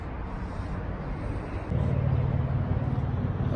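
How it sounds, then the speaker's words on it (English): Steady roadway traffic rumbling outside a 27 ft 2019 Airstream Globetrotter RV in Las Vegas heat, a continuous broadband wash that grows louder and heavier partway through, with no talking. "excuse the traffic sounds"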